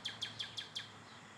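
A wild bird calls back toward someone nearby on a Sunday morning outdoors, five quick, evenly spaced high chirps in a row, clear and fairly close, then a brief quiet.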